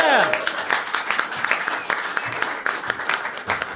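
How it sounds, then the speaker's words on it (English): An audience at a live stage show bursts into warm, continuous applause with a few cheers, loud and close, while a presenter's voice cuts in over the clapping. "A round of applause."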